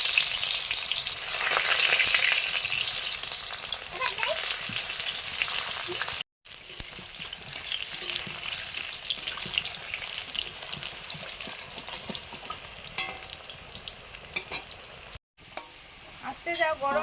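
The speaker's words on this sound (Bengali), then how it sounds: "আলুগুলো ভেজে নিচ্ছি।" Potatoes fry in mustard oil in a pan with a constant bright sizzle that holds for the whole stretch, broken by two brief dropouts, with occasional stirring scrapes and voices talking underneath.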